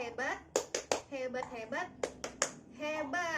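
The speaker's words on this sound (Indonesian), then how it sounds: "kita beri tepuk hebat ya Bu ya untuk kelompok cerdas" A group at an Indonesian mothers' nutrition and health training session claps out a short rhythmic 'tepuk hebat' cheer for a team, with sharp clap bursts woven among chanting and talking voices.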